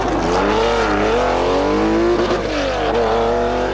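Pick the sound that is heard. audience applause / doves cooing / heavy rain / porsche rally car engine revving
porsche rally car engine revving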